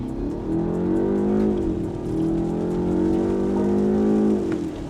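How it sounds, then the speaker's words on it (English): A 2024 BMW 530L long-wheelbase sedan engine revs and accelerates hard, its steady droning pitch climbing, easing briefly, then climbing again, loud and close throughout. "even the way the engine sounds, it's a nice sounding engine, and it never feels stressed."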